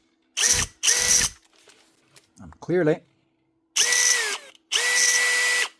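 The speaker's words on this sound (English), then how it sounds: "Motor's running, turning nothing." Faulty Makita DFF083 18 V stubby drill driver whose motor spins without turning anything, heard in four loud, close whirring bursts of about half a second to a second each, with a brief spoken remark between them.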